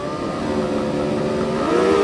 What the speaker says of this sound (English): Engage gear. Watch the lights. The revs rise.